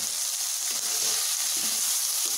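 Okra frying in a pan with pepper powder and coriander powder, giving a steady, close, bright sizzle and hiss throughout, alone with no talk.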